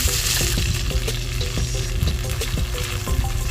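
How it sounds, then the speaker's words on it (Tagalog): Chicken pieces fry in a hot pan for adobo cooked in Coke, giving a loud, steady crackling sizzle with dense popping and spitting throughout, close up and with no talking. "Medyo hot lang sa ating pagka-fried ng ating chicken."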